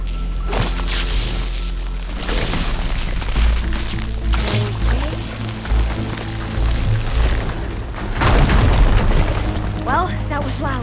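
A fire gleam deposit blows apart in Horizon Forbidden West, the game's deep booming blast rumbling heavily, followed by crumbling, pouring debris, and then a second loud surge near the end, with game voices and effects layered throughout.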